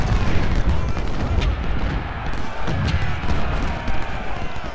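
Continuous distant musket and cannon fire rumbles across a Civil War battle at Antietam in Ultimate General: Civil War, a dense crackling barrage with low booms, heard under someone speaking.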